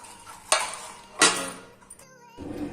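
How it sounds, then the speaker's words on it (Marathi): An aluminium container is scrubbed clean with a few harsh, broad scraping strokes and clatters of metal, close and fairly loud, ending in a softer rubbing sound. "आता मी डबा क्लीन करून घेते"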